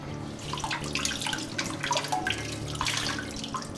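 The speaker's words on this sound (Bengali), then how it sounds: "এবারে কানকোর এক একটা পরত জলের তলায় আঙুল দিয়ে কোচলে কোচলে ধোবো" Water splashes and trickles as fish head gills are rubbed clean by hand under water in a bowl, close, with irregular swishing and dripping from the fingers.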